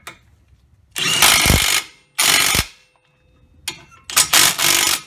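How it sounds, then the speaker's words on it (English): An impact wrench hammers at the wheel bearing bolts on a 2003 Nissan Altima 3.5, several loud rattling bursts of about a second each, separated by short pauses, close by and with no talk. "Let's get the impact after them."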